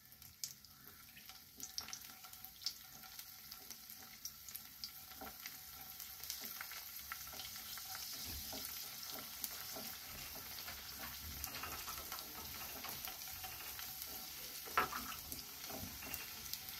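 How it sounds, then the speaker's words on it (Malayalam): Cashews, peanuts and raisins frying in hot oil in a home kitchen make a steady, moderately loud sizzle with soft stirring and scraping sounds. No one speaks. "എണ്ണ ഒഴിച്ചു ചൂടായതിന് ശേഷം നമുക്ക് ഇതെല്ലാം ഒന്ന് വറുത്ത് കോരിയെടുക്കാം"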